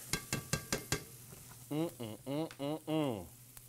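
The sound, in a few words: garlic, shallot and ginger sizzling in a pan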